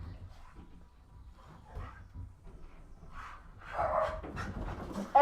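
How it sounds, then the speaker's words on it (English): Several pet dogs run around indoors, giving faint scattered barks, pants and whimpers that grow busier and louder toward the end. "I'm paused because our dogs are running around being dicks."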